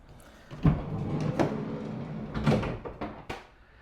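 Sliding side door on a Ford Transit Connect van, heard as several close thuds and rolling slides of the door moving along its track, with a final clunk.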